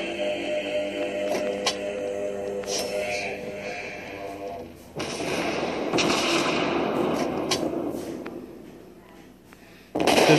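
Naval guns fire in the World of Warships game as cruisers trade shots, sharp booms and crackling blasts arriving in bursts, with a dense roaring stretch midway and a sudden loud blast at the end.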